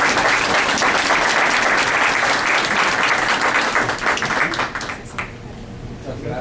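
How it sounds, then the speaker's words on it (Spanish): Loud, sustained applause from a conference audience welcoming a speaker to a lecture on tax crimes, dense and steady before thinning out toward the end. "lo recibimos con un fuerte aplauso"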